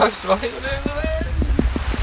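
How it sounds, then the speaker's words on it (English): Rain falls at a fishing lake, a steady soft patter of drops under close, clear talk from a man, with a few sharp ticking taps running through it. "It's the rain."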